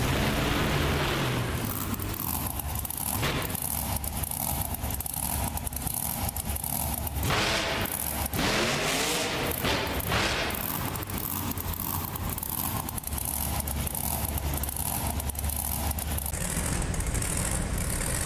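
A video game monster truck engine in BeamNG Drive roars and revs continuously, surging up and down in pitch, loud and close throughout.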